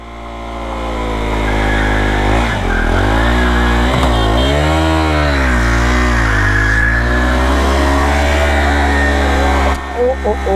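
A KTM Duke 390 motorcycle does a burnout, its engine revving hard and loud in rising and falling sweeps close by, with people talking and shouting over it.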